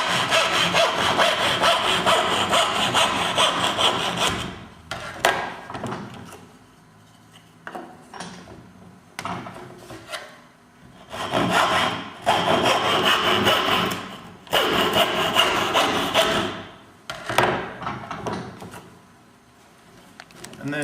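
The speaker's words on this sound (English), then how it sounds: "gently draw the saw back" A hand saw cuts reclaimed softwood for a finger joint in bursts of rapid, rasping strokes, close and loud. Short pauses break the sawing, with quieter taps and handling between the bursts.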